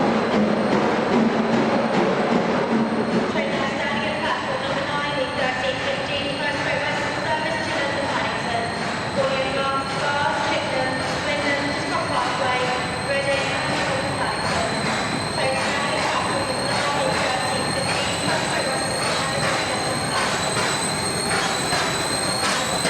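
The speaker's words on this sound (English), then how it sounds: "the King arrives, and that famous curving canopy echoes to the bark of a Great Western exhaust." Great Western steam locomotive King Edward I, number 6024, arrives beneath a curving station canopy with a loud, echoing exhaust bark, a continuous roar of steam and rumbling wheels and a high whistling tone sustained throughout.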